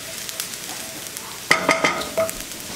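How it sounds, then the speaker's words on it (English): Onion sautéing for risotto in a pan, a steady soft sizzle that turns into a burst of louder scraping stir strokes about halfway through, close and with no talk. "As the onion continues to caramelize, we're gonna add in our minced garlic."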